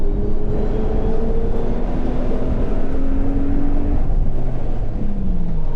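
A Mitsubishi Pajero Evolution drives on a race track, its engine droning loud and close throughout, with the pitch rising and falling steadily against a constant rush of road and wind noise.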